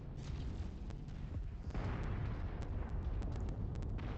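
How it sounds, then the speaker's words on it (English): Artillery blasts rumble through a MechWarrior 5 battle, a continuous low roar of explosions with sharp bursts layered on top, loud and sustained with no talking. "I'm pretty sure you guys can see the artillery here"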